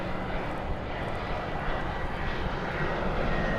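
An airliner arriving at DFW airport produces a loud, steady jet engine roar that fills the whole stretch without a break, with no talking over it.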